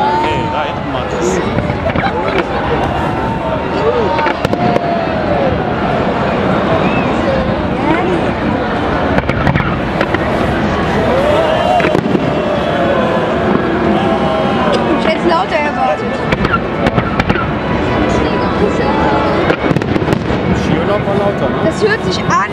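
Fireworks at the Hamburg harbour birthday celebration boom and crackle in a dense, continuous barrage, while a crowd's chatter and exclamations stay mixed in the whole time.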